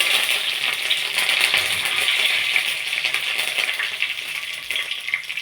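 Curry leaves, mustard seeds and cumin seeds sizzle and crackle in hot oil for tomato rasam, a bright, steady frying hiss with sharp popping spatters, close and with no talk.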